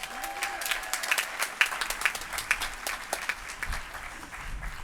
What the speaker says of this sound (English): let's clap it up for all of our speakers